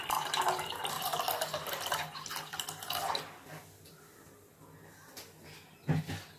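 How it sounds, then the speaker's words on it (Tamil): Water is poured from a packet of milk into a pan in a home kitchen while masala tea is being made, a splashing stream lasting about three seconds, then quieter handling with a soft knock. "அதற்கு தேவையான தண்ணீர் அதில் ஆட் பண்றேன்."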